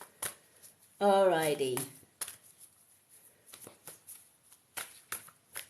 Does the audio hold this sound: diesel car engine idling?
no